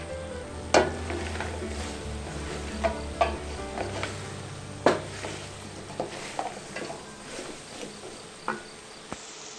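Banana pieces are stirred through sticky melted jaggery with ground dry ginger, cumin and cardamom for Onam sarkara varatti. Irregular scraping knocks from the spoon sit over a soft, buzzing sizzle. No one speaks.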